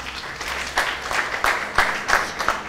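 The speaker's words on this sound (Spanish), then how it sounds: "Un fuerte aplauso" Applause from an audience at an architecture event, a light clapping wash with a few louder claps standing out near the end.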